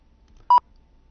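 A single short electronic beep from a looping sound effect in Unity, a clean steady tone lasting a fraction of a second, sounds once against near silence.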